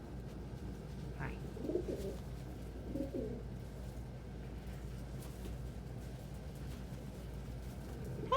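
Pigeons or doves at a backyard seed feeder give a few soft low coos over faint steady background hum, with no talk.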